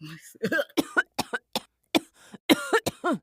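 Short burst of several sharp coughs and throat clearing, close and fairly quiet, in irregular clusters with brief gaps, no speech between them.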